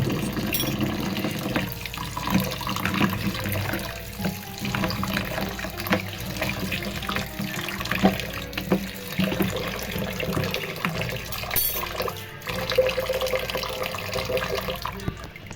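Chopped onion washed under a running kitchen tap, with a continuous splash of water into a sink and small clatters of handling throughout.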